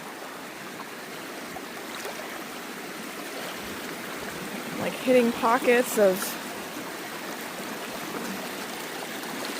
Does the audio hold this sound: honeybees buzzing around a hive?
no